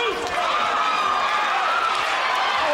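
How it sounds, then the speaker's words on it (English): A boxing arena crowd roars steadily for Floyd Mayweather as a commentator talks over the dense, continuous cheering. "Hear the crowd and everybody cheering Floyd on here."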